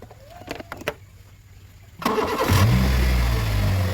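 A Honda Jazz GD3 fitted with a new battery cranks briefly and catches at once, settling into a loud, steady idle close to the microphone after a few faint clicks and knocks.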